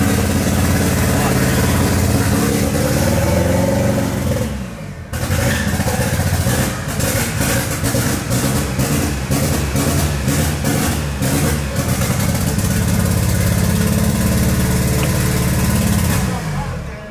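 A car engine runs at a fast, high idle while being tuned, loud and steady close by, with a brief drop near the five-second mark and a rough, pulsing rumble throughout.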